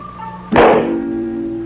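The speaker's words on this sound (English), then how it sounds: "Nothing is added to the tube, but another explosion occurs." A small explosion goes off inside a laboratory test tube: a single sudden dull thump, followed by a broad rumbling burst that fades slowly into a low steady hum, with no voices.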